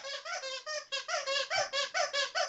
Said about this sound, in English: My dog has a squeaky toy.